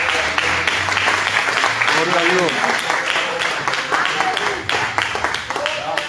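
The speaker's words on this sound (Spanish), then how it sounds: "Un aplauso fuerte al Señor." Church congregation applauding loudly and steadily through the whole stretch, a dense wash of clapping with voices calling out over it.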